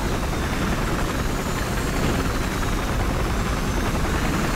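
A helicopter in the Battlefield Hardline shooter game churns with a loud, steady rotor and engine roar that holds without a break, no voices over it.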